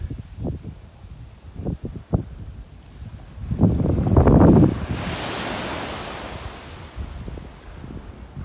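Gusty wind buffets the microphone on a rocky seashore, with low thumping bursts, then a sustained roaring rush of wind and surf that slowly fades. No one speaks.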